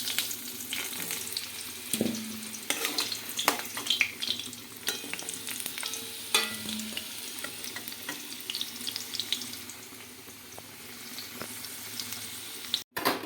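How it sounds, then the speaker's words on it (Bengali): Potato pieces frying in hot oil, a steady close sizzle with scattered pops and clinks of a utensil stirring, continuing for several seconds without talk. "আলুগুলো লাল লাল করে ভেজে নিচ্ছি"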